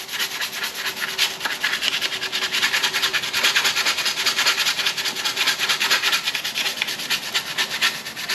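Hand sanding the paint off a car headlight, a loud, close, continuous rhythmic scraping of abrasive paper with steady back-and-forth strokes throughout.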